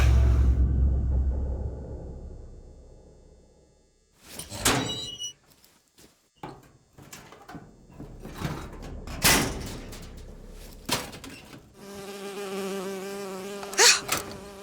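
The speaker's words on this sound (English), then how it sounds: "Oh, it's a bee. I hate these things." An insect buzz from a bee in the video game BioShock Infinite, heard in short whining bursts amid clattering game sounds and mechanical noises, fairly close, with no talking.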